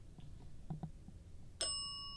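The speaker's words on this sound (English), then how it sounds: "can you hit that bell?" A single bell is struck once aboard the Queen Mary during a night ghost hunt, its bright ring sustaining and slowly fading in a quiet room after a few soft thumps.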